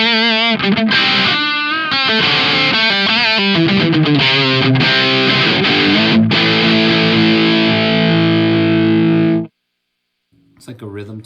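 Distorted electric guitar plays a run of licks and sustained notes through a solid-state amp with reverb, ending abruptly; after a short silence, someone briefly speaks.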